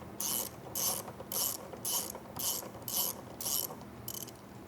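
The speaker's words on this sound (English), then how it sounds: "next we're gonna remove the 10mm fasteners on the bumper" A hand ratchet zips in quick bursts, about eight in a row, loosening 10mm bumper fasteners on a fifth-generation Toyota 4Runner. The clicks are close and crisp, with no talk.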